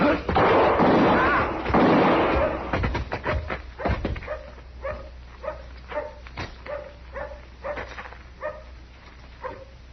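Gunshots ring out in a Western radio drama shootout, a heavy burst of firing and commotion under tense talk before sharper, spaced reports trail off over quieter sounds.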